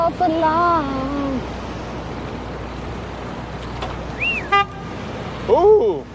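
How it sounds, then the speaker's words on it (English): A car horn honks on a New York City street, several loud tonal blasts at the start, then a brief whistle-like chirp and another horn swell near the end, standing out over steady city traffic noise. "Ooh! The honk."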